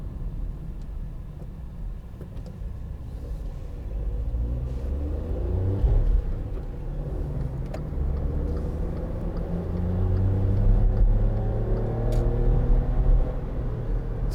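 A 2012 Volkswagen up! 1.0 three-door with a three-cylinder engine, driving with a steady, loud low drone from inside the car that swells and climbs in pitch partway through, with no talking.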